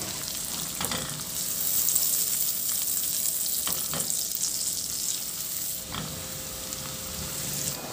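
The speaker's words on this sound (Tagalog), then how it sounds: "Maglagay din ako ng sibuyas. Ihalo lang din hanggang sa maluto yung sibuyas." Onion frying in melted butter and being stirred, a steady close sizzle running throughout with a few sharp spatula scrapes against the pan.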